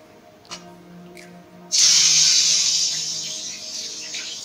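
After a couple of faint taps, a sudden loud hiss erupts as parshe fish hit a little hot oil, then settles into a steady, gradually fading sizzle.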